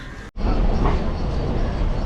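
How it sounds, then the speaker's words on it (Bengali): A local train pulls out of Adra station, its steady close rumble starting after a brief cut and carrying on evenly. "আদ্রা থেকে ট্রেন ছেড়ে দিল"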